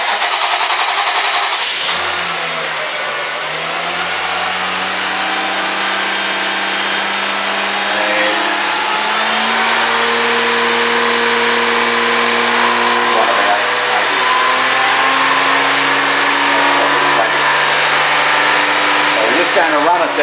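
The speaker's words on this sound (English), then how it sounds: "We've run the car now for 5 or 6 minutes" A car engine cranks and catches, then settles into a steady running drone with low harmonic hum that slowly shifts pitch; voices speak faintly at times.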